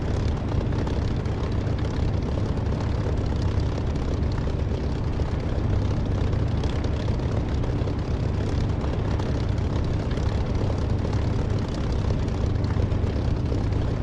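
A fixed-wing aircraft engine in the DCS flight simulator drones loud, steady and unbroken, a dense rumbling roar with no speech over it.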